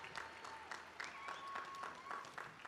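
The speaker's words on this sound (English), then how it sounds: "please rise and cheer as loudly as you can with all your computing spirit" A crowd at a Georgia Tech master's commencement ceremony claps in scattered bursts, with a thin whistle rising through the applause, all fairly faint and distant.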